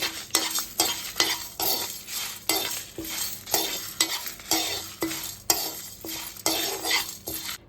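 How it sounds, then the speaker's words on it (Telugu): Dried red chillies and curry leaves fry in oil on a low flame, with a steady sizzle broken by a quick, repeated rhythm of a spoon stirring and scraping the pan, close and fairly loud, with no talk. "నాలుగు ఎండుమిరపకాయలు, కొంచెం కరివేపాకు కూడా వేసుకొని వేసుకోవాలి ఫ్రెండ్స్."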